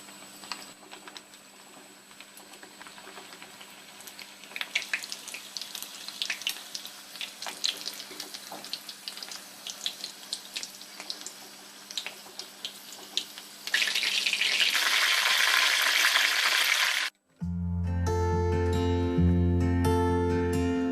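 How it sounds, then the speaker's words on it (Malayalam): Leaf-wrapped money bag prawn bundles drop into hot oil for deep frying, giving a crackly sizzle that swells to a loud steady hiss before music takes over. "ഇനി നമുക്ക് ഓരോ കിഴികളും നമുക്ക് എണ്ണയിലോട്ട് ഇട്ട് കൊടുക്കാം"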